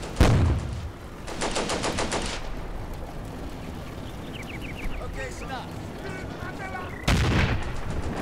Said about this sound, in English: But the gun's still shooting.